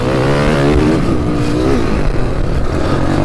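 YCF 190 pit bike accelerating hard in second gear, a loud, raspy single-cylinder engine revving up with rising pitch, a wavering note midway and continued strong pull, close to the rider with wind noise.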